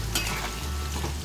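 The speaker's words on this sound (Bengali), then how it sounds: "আর তার সঙ্গে হচ্ছে এখানে করলা ভাজা বসিয়ে দিয়েছি" Bitter gourd slices fry in a wok, giving a brief, steady sizzle with a soft hiss throughout and no talking.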